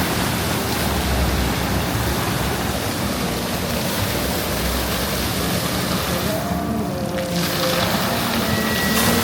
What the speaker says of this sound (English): Whoa, water show.